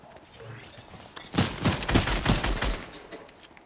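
Fortnite gunfire breaks out as a rapid burst of several sharp, loud shots fired in quick succession, trailing off into quieter ambience, with no talking over it.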